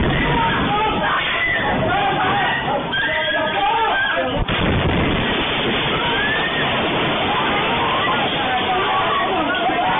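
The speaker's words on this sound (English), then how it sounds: "This is the bombing that happened that she was just reporting on." Wartime bombing captured in news footage: a loud, chaotic wash of noise with voices shouting and one sharp heavy thud midway, then continuing roar and commotion.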